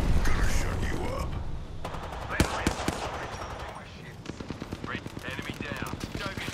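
Rapid automatic gunfire in Apex Legends, bursts of close shots with quick repeating cracks, some single loud reports, under shouted in-game character voices and player talk.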